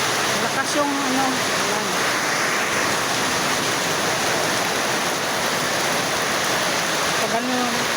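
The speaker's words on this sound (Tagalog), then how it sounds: "Lakas ng ulan." Heavy rain and gusting wind pour down outdoors as a loud, dense, continuous wash of noise, with a few faint birdlike squeaks riding on top.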